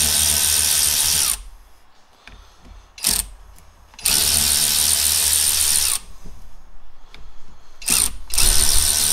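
Bursts of an impact or power tool loosening bolts on a motorcycle oil line during an S&S oil line kit upgrade, several loud rattling runs of one to two seconds with short pauses between, close up and with no talk.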